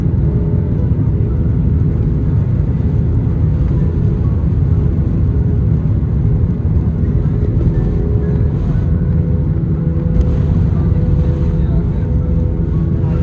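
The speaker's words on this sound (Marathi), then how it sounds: "तर बघा फायनली टेक ऑफ केलेलं आहे आमचं विमान" Inside an airplane taking off during heavy rain and lightning, a loud, steady low cabin rumble from the engines drones on without a break.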